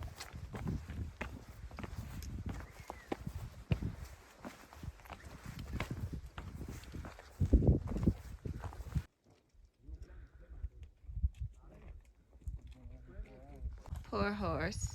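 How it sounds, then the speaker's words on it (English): A horse walks on a high mountain trail over Larke Pass on the Manaslu Circuit, its irregular hoof clops sounding under steady wind and people talking nearby. "Poor horse."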